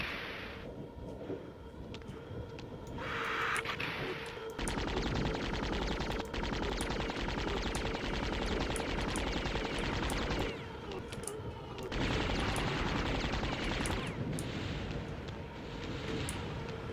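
An air raid in the video game MDK: long stretches of dense, roaring barrage fire and rumbling blasts, loud and continuous, broken by brief quieter gaps, with no talking.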